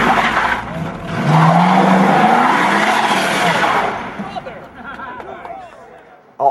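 A stunt car from the 2005 Dukes of Hazzard production squeals its tires in a loud skid over a roaring engine, then eases off into quieter rumbling with faint voices and a sharp knock at the end.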